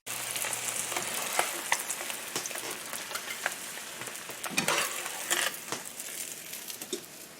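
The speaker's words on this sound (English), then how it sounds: "So the goal right now is really just to brown them as quick as possible on both sides without overcooking them." Fish fillets searing hard in a hot pan with butter, a steady dense sizzle and crackle holding level throughout, with scattered sharper pops and spits standing out near the microphone.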